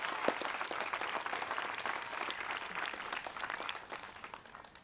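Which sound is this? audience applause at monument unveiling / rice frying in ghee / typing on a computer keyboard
audience applause at monument unveiling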